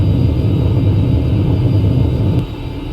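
Boeing 737-800 jet engines at takeoff, a loud steady low rumble and roar heard from inside the cabin, continuous throughout and easing slightly near the end.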